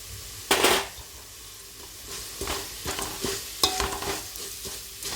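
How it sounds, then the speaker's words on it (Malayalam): Semolina and vermicelli are stir-fried in ghee in a pan. A spoon scrapes and stirs in repeated strokes over a soft, continuous sizzle, up close. "നമ്മൾ നന്നായിട്ട് നെയ്യിൽ തന്നെ എല്ലാം ഒന്ന് വറുത്തെടുക്കണം."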